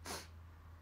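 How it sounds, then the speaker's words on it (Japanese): A stifled, failed sneeze: one short, close, breathy burst lasting a fraction of a second, then only a faint steady low hum. "くしゃみ失敗です。"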